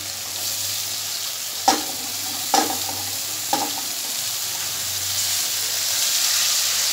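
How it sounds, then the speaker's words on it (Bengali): Cabbage fries in a pan for a Bengali vegetarian bhog-style dish with potatoes, giving a steady bright sizzle, broken by three sharp scraping stirs of a spatula, then a rising hiss as the frying continues. "এবার দিয়ে দিচ্ছি আমি বাঁধাকপিটা।"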